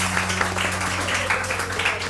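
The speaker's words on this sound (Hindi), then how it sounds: "अरे तालियां तो बजाओ" A studio audience on a morning TV show applauds in a steady wash of many hands clapping, continuous and moderately loud throughout.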